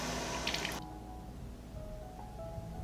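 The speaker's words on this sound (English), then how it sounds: "I add 500 milliliters of cooking cream." Cooking cream poured into a pan gives a short, soft splashing rush that cuts off quickly, followed by faint drips and quiet bubbling, all fairly low in level.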